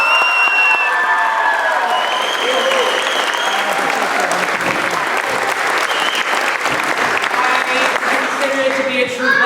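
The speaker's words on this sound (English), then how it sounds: "I think they deserve one more round of applause." After a school theatre performance of the musical Honk, the audience gives loud, sustained applause, with scattered cheers and whoops from the crowd rising over the clapping.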